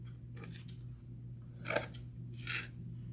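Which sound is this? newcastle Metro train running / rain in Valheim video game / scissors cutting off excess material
scissors cutting off excess material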